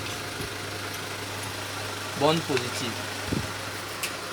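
A car engine idles steadily during a hydrogen decarbonization treatment, a low constant hum that continues while someone speaks French over it.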